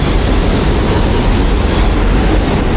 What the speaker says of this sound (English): I've got the metro overhead,